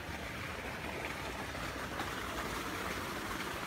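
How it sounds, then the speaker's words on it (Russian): Steady broadband rush of water from a hot and cold jacuzzi at an outdoor condo pool in Hua Hin, a continuous close hiss with no talk over it. "Джакузи с горячей и с холодной водой."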